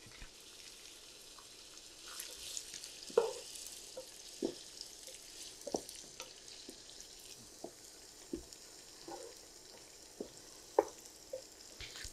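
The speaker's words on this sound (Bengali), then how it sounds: "তেলটা গরম হয়ে গেছে, আর এখানে পেঁয়াজগুলো দিয়ে দিচ্ছি।" Chopped onions, about 300 grams, hiss and sizzle in hot oil for mutton biryani, with a steady frying crackle and repeated louder scrapes and stirs throughout.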